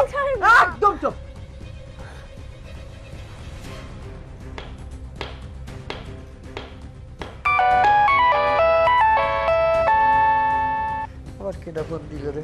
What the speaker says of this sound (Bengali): আবার কেডা ফোন দিল রে অসময় কে মা ফোন দিছে